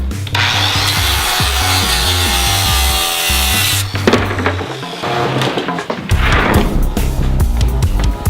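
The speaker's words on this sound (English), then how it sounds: "we are just gonna rip it with the circular saw" Circular saw ripping a sheet of MDF, a loud close whining cut lasting several seconds, then rough scraping and thumps, followed by a renewed burst of cutting noise.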